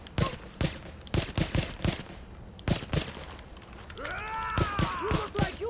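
Gunfire in the video game Tom Clancy's The Division, loud close bursts of rapid shots with short pauses between volleys, plus a mechanical whine and background game noise.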